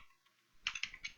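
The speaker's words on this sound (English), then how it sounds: "You could type whatever you wanted, iPod or" A computer keyboard is typed in a quick burst of about half a dozen clicky keystrokes, close and fairly loud in a quiet room, while a file name is entered for Unity 3D screenshots.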